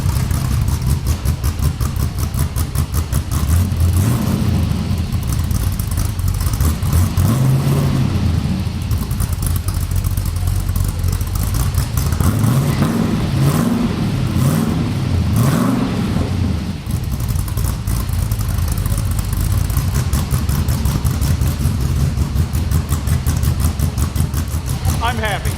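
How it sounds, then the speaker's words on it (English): An LS V8 fitted with a budget camshaft idles with a lumpy, choppy note, then revs up in a few short blips before settling back, loud and close, with people talking over it. "Give it just a little rev."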